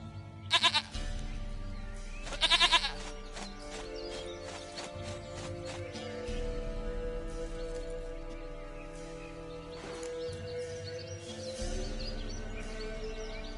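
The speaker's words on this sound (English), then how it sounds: "Goat of mine, dearest," Inside The Witcher 3, a goat lets out two quavering bleats near the start, heard over a low droning game soundscape of ambient tones and faint hoof-like clatter.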